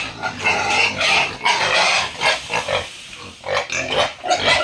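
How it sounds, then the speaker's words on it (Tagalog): Hungry pigs squeal and grunt loudly and close at feeding time in a wet-feed pen, a continuous overlapping chorus of shrill cries with brief dips between bursts. "Maingay guys mga baboy pag gutom."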